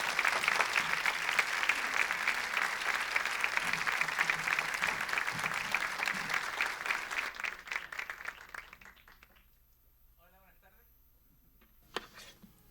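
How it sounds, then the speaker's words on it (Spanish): An audience applauds Alicia Ramos at the evening inauguration of the Cinematrans festival. Steady clapping runs for about eight seconds, then quickly fades to quiet, where a faint voice begins speaking. "Un aplauso para Alicia Ramos."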